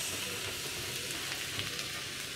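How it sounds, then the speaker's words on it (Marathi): Ajwain seeds roasting in hot ghee on low heat for a Marathi mukhvas, a steady close sizzle with a soft crackle running evenly throughout, no talking. "तूप गरम होत आलं की आपण आपल्या ह्या सगळ्या ओवा त्यात टाकून देणार आहोत"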